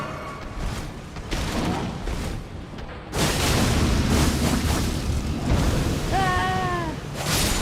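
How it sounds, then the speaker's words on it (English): A gruesome monster in the video game Elden Ring spits fire vomit with a loud, sustained roaring whoosh that swells partway through, and a brief shrill cry rises near the end. "And he spits fire vomit."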